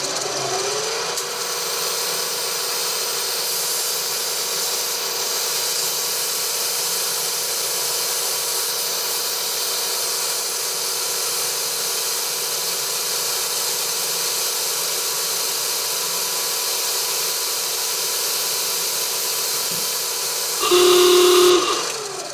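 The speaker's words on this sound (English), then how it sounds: "So I'm going to use a mist coolant, and I'm running the spindle at 1000 RPM." A machine spindle at 1000 RPM drills an oil port in a small Stuart Turner 10H steam engine part with mist coolant, a steady high hiss and whine running continuously, close and loud, with a brief louder burst near the end.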